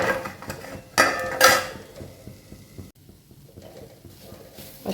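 A lid set down on a pan of chopped elephant-foot yam leaves for stir-fried thoran, giving two bright metallic clanks close by, then a quiet stretch of soft kitchen noise.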